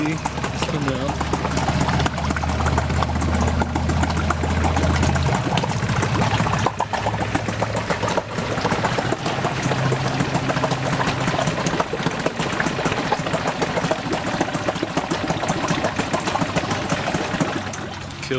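A Yamaha 4 hp two-stroke short-shaft outboard motor runs steadily at idle, a loud continuous buzzing engine drone that holds without pause through the whole stretch, with water churning beneath it.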